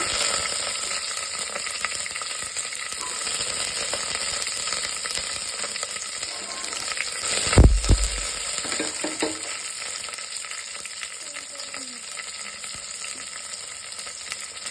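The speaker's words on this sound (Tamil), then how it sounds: "நல்லா வெங்காயம் பூண்டு வதங்கட்டும்." Onion and garlic with curry leaves sauté in a single pot for sambar rice, a steady close sizzle throughout with a brief clatter of stirring midway; no speech.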